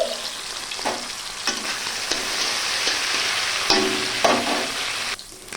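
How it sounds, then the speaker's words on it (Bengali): Prawns sizzling in hot mustard oil, a steady crackling fry punctuated by several scraping stirs of a utensil in the pan, close and clear. "গরম সরিষার তেলে আমি চিংড়ি মাছ ভেজে নিচ্ছি।"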